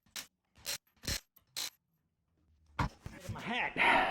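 Tools click and ratchet in four quick, sharp bursts while a tire is taken off a Porsche 911, followed by a brief lull. Then a person talks over rustling and mechanical handling noise.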